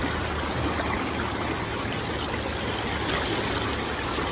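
A flowing salmon river on the Campbell River rushes and trickles steadily close by while someone in waders crosses it, a dense continuous wash with no speech.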